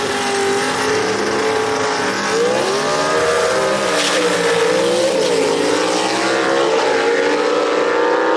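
Gasser drag race cars, Tony Tagenhorst's Wasted Wages car against Jimmy Huff's Hoopty Coop, run down the strip at Gulfport Dragway. Loud, sustained engine roar with rising and shifting pitch that holds steady throughout.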